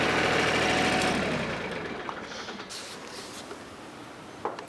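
A compact tractor's engine runs loud and rough with the tiller attached, then winds down and fades over a few seconds as it is shut off, leaving faint ticks and a small clunk.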